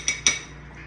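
A parrot imitates forks clinking against plates, giving two quick bright metallic clinks close together, then a faint fading ring.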